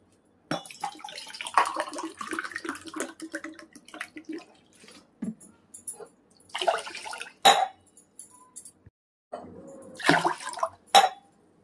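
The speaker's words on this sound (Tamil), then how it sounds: "அதுக்கு 3 கிளாஸ் தண்ணி ஊற்றிக்கலாம்." Water poured from a glass onto washed rice and lentils in a pot, several separate splashing pours with short gaps between them, close and fairly quiet in a home kitchen.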